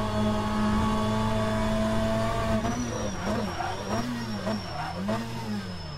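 A front-wheel-drive BTCC touring car engine in the rFactor 2 racing game holds a steady loud drone, then revs rise and fall through quick gear changes as it accelerates away, close and without speech.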